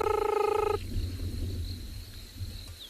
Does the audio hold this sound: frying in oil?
no